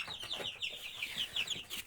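Small chicks cheep and cluck in quick, high chirps, a busy repeated twittering at moderate distance with faint handling noise around them.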